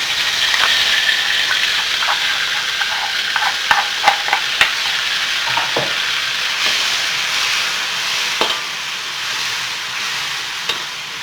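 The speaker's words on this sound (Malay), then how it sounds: "We sauteing our grounded ingredient" Spice paste pounded for a sambal belacan sautéing in hot oil, a steady broadband sizzle and hiss throughout with scattered sharp pops and crackles from the frying.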